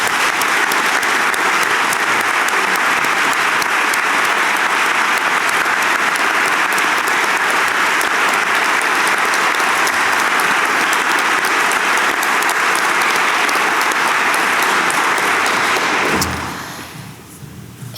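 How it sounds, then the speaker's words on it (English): Loud, sustained audience applause at a college reunion convocation honoring Marty, a dense roar of clapping that holds steady for about sixteen seconds before cutting off abruptly into quiet room tone. "could we please give Marty a round of applause?"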